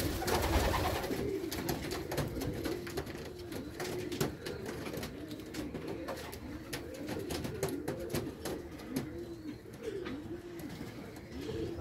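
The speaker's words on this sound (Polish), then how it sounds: "Już niektóre gruchają fajnie." A loft of homing pigeons coos softly and repeatedly, with several birds overlapping in a steady murmur and light rustling around them.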